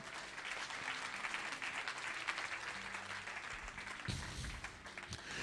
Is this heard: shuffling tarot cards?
no